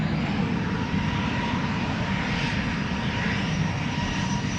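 A KLM Boeing 737 airliner departs Amsterdam Schiphol with a dense, unbroken engine roar, loud and close throughout.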